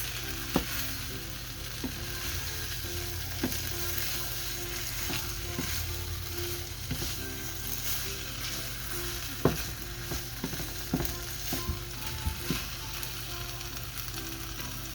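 Food fries in a large, crowded skillet with a soft, steady sizzle, broken by occasional clicks and light knocks.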